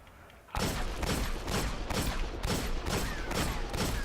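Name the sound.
gun rapid firing in Destiny video game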